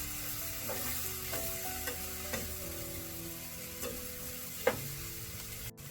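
Spices sizzle softly in a hot frying pan while a spoon stirs and scrapes the metal with several light clinks, no voices.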